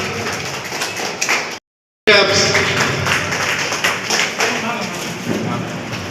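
A crowd claps continuously at a hospital award ceremony in Gudur while a voice talks over the applause. The sound cuts out briefly before the clapping resumes.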